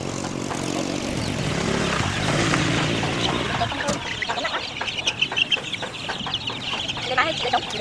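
Live hens and roosters clucking at a roadside sale, with scattered short clucks and calls growing more distinct in the second half over a busy wash of background noise and voices.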